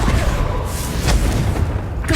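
Explosive Confringo spell in Hogwarts Legacy, a loud dense booming blast with thudding low rumble that fills the short moment up close.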